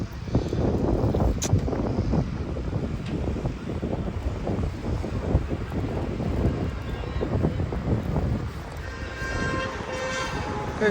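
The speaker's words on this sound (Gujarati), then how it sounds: "બહુ પવન છે" Strong wind buffets and rumbles in gusts right against the microphone, steady throughout, with faint water or traffic noise behind.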